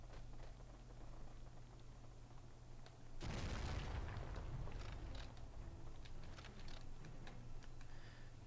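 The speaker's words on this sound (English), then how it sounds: "Oh, that's a grenade." A grenade goes off in the World War II shooter Medal of Honor: Rising Sun, a sudden loud blast that sets off a long rumbling roar, with scattered crackling battle noise before and after.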